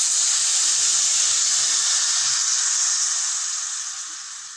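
Milk poured into a hot pan of sautéing grated carrots for carrot laddu gives a loud, steady sizzling hiss up close that slowly fades as it settles.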